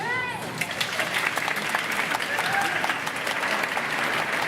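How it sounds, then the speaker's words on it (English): A crowd at a shopping centre event applauds steadily, a dense wash of clapping that continues throughout while a voice speaks over it. "Let's give her a round of applause."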